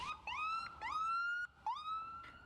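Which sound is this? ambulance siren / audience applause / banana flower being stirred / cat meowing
ambulance siren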